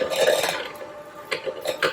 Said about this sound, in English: So we're going to mix this together